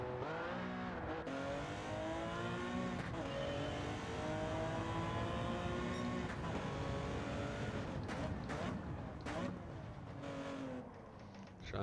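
A Porsche 917K race car at Spa in Gran Turismo 7 roars continuously at high revs, its engine note rising and falling through gear changes and corners, with brief tire squeal; loud, close and sustained throughout.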